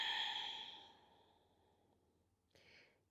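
A long, breathy exhale during a core exercise fades out over about two seconds, followed by a short, softer breath near the end, close and clear with no talking.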